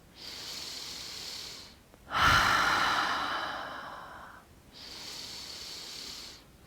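During seated somatic yoga, a person takes slow, deep breaths: a long audible inhale, then a fuller, heavier exhale with a sighing quality, and another inhale follows, all close and quiet with no talking.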